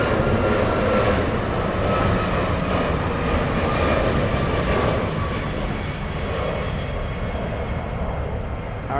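A Lufthansa airliner on flight 432 to Chicago O'Hare departs Frankfurt airport, its loud engine roar holding steady throughout and easing only slightly toward the end.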